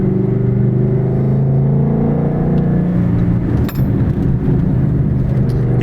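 Shelby American GT350 Mustang engine pulling steadily under acceleration while driving, a loud continuous low rumble with a slight dip in the middle and no talk over it.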